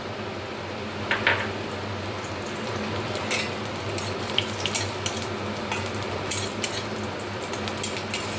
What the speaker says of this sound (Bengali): সেই তেলের মধ্যে এবার ভেজে নেব বড়ি